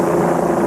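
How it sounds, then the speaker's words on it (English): Helicopters flying overhead during an emergency response at a school shooting scene, a steady broadband rotor and engine drone that stays loud and constant throughout with no voices. "Helicopters"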